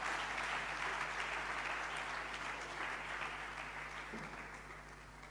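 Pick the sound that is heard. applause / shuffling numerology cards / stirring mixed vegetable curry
applause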